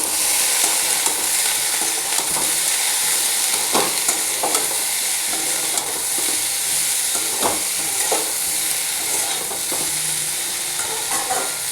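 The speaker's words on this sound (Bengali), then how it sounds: "এবারে এইটা দিয়েও একটু নাড়িয়ে নিচ্ছি" Vegetables seasoned with salt, turmeric and Kashmiri chilli powder fry in a pan while a spoon stirs them, giving a steady close sizzle broken by repeated scraping strokes, with no talking.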